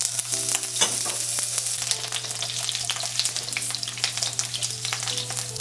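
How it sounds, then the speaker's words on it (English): Potatoes frying in hot mustard oil for an egg curry, a loud, steady sizzle with crackling pops and occasional stirring throughout. "Oil is now hot, so add the potatoes."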